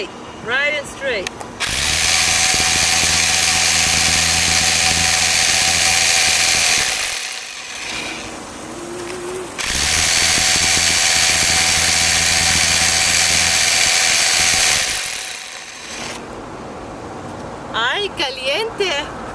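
A power drill whines loudly in two long sustained bursts with a short pause between them, grinding into a stone boulder up close.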